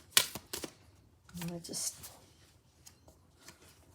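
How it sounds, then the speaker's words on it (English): Small tarot-style reading cards are riffled and shuffled in quick, uneven bursts of crisp flicking and rubbing, close up and fairly quiet. "Rather difficult to shuffle these little cards."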